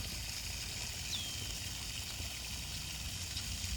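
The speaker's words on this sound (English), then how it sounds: "That's where the water spills out into the second pond over there" Water spills over a pond spillway built with a dozer into a second pond, making a steady, faint outdoor rush with a low rumble and no clear breaks.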